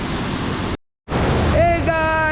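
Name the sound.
waterfall near Grahan village, Kasol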